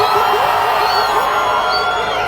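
A crowd cheers and shouts at a live music show in Kikuyu, Kenya, with loud continuous whoops and raised voices filling the whole moment.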